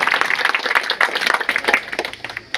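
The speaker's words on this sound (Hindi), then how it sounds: "तालियों के साथ, जोरदार गड़गड़ाहट के साथ इनका अभिनंदन करें, स्वागत करें" Crowd applause at a Bihar NDA election rally welcoming rural development minister Ashok Choudhary, loud steady clapping from many hands across the whole stretch with only faint voices underneath.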